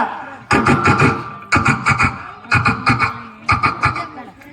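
A schoolchild vocally imitating a train, producing four loud rhythmic bursts of chugging, puffing sound close to the listener, each burst a quick cluster of beats separated by short pauses.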